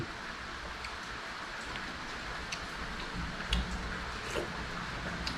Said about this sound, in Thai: โอ้เสียงฝนนะ